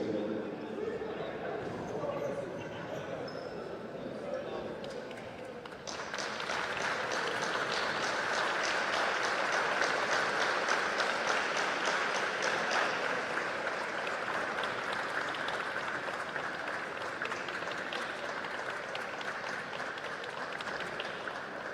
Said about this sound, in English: please join us in a round of applause for Tony Cosgrove, member of the AUL, who sadly passed away recently